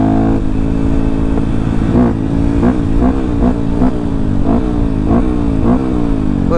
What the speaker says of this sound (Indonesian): nyoba knalpot.